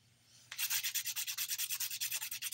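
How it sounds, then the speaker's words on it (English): A 180-grit nail file sands glitter dip powder nails in quick, steady back-and-forth strokes, a close, loud, rhythmic rasping that starts after a brief quiet moment and continues without speech. "I'm using the 180 grit side just to smooth out this glitter now"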